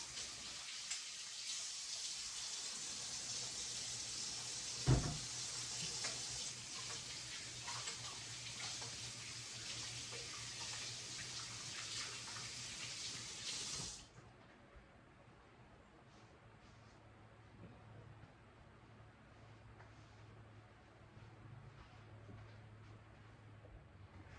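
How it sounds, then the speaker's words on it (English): Oily hands washed under a running kitchen tap while making tortillas: a steady close gush of water with a brief clatter partway through, then the flow cuts off, leaving quiet room tone. "Go ahead and wash my hands"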